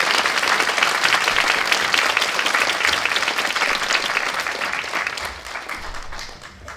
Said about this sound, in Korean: 오늘 새롭게 안수된 6명의 학원님들을 위해서 큰 박수 부탁드립니다